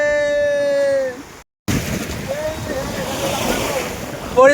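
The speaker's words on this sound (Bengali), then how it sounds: "জলের ঢেউ আরো বেড়ে যাচ্ছে" Waves washing along a river in the Sundarbans, with steady surf rush and wind buffeting the microphone after a brief cut, and a voice speaking briefly at the start.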